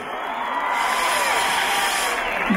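A concert audience at a show in Kütahya cheers and applauds in a dense, loud, steady roar that fills the whole stretch.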